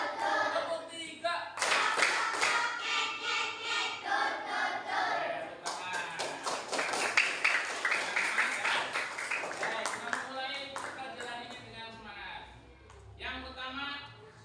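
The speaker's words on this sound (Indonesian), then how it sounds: "Sebelum mulainya kita tepuk dulu." Classroom of students clapping together in short rhythmic bursts, with group voices chanting and a teacher speaking between the claps, moderately loud and close.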